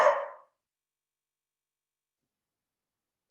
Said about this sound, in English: Sorry about my naughty doggy tonight.